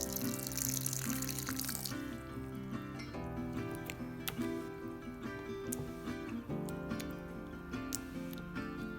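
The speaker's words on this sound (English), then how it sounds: "I am adding water to this to bring it to a thick batter consistency" Water is poured into rava batter for uthappam, making a splashing, rushing stream for the first two seconds before it stops, with background music playing throughout.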